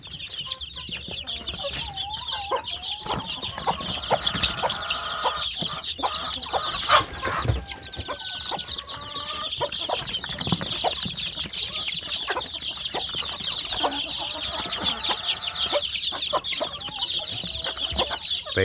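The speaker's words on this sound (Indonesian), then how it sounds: "apakah anak ayam kampungnya akan makannya semakin lahap sedulur" Free-range village chicks cluck and peep steadily while eating wet feed, a continuous close chorus of small calls with scattered pecking over constant background noise.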